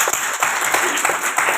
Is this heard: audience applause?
yes